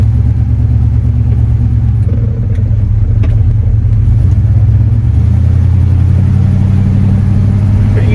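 A 1974 Cadillac Superior hearse cruising along a road, its engine giving a steady loud low rumble with a slight rise in pitch midway, heard from inside the car.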